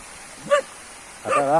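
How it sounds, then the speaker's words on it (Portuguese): Dogs barking in the distance near a stream in Casa Seca, Franca: two short, faint barks about a second apart over quiet background, with no talk. "Tem uns cachorros enjoados ali."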